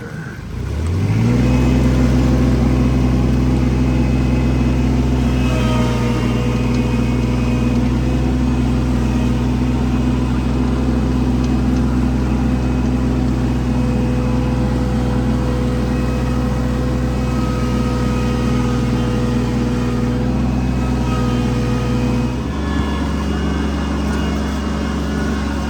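A vehicle driving over muddy strips prepared for deer, its engine droning loud and steady for about twenty seconds before the tone drops near the end.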